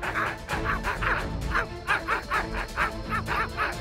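Cartoon creatures bark and yip like dogs in a quick, repeated series of close, bright barks with whimpering tones, voiced as a dog imitation over a busy animated soundtrack.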